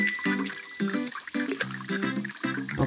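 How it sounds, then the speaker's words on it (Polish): A bright customer bell chimes in the cooking game Papa's Donuteria, several clear, ringing dings in quick succession over light game sounds, with no talking. "Nowy klient jeszcze nie przyszedł, bo wiemy, że mamy dzwoneczek, nie?"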